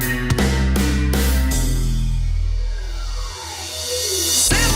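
A reverse cymbal swell made in Pro Tools, built as several harmonic hits that give way to a long rising, sweeping wash ending in a sharp cutoff, loud and alone with no voices.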